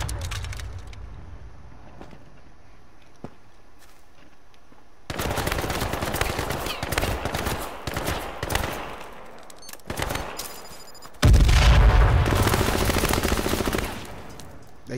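Bursts of rapid automatic gunfire in a multiplayer shooter game, two loud stretches of dense rattling fire between quieter gaps with scattered single shots.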